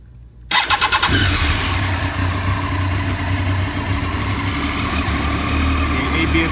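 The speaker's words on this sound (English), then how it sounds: "Oh, I gotta pull the clutch with the other hand, so I'll be able to start it." A motorcycle at a dealership cranks with a quick stuttering starter burst, catches and settles into a steady, rumbling close-up idle, while a person talks over it.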